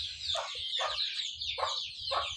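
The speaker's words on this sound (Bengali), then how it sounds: "এদিকে আমার কুকড়াগুলো আসছে আদার খাইতে, ওনারা শব্দ করতেছে।" Chickens cluck in a village yard while coming to eat, a series of close, sharp bursts about every half second over a faint low rumble, with no talking.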